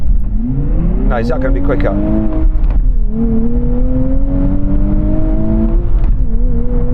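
Two sports cars, a Nissan Z, Lotus Emira, Toyota GR Supra or Porsche Cayman GT4, launch in a drag race, engines rising steadily in a sustained, loud whine close by while someone talks over them.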